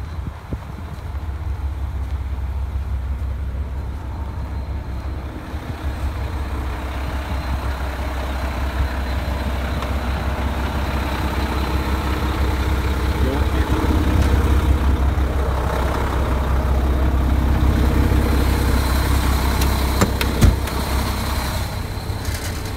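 A truck engine idles steadily before a drive, a deep continuous low rumble with a faint airy hiss on top and a small knock near the end, no speech.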